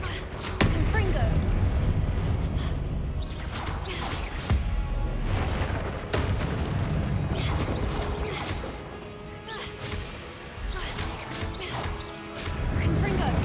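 Confringo blast spells exploding repeatedly in a Hogwarts video game, sharp booming impacts and crashes recurring every second or two over dense game noise, with a voice calling out between blasts.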